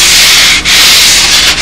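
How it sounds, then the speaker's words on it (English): Steady, gritty rasping of a sanding block rubbed back and forth over a wooden model wing tip, close and loud, with a couple of brief pauses between strokes. "it just takes a couple of swipes with a sanding block to do that."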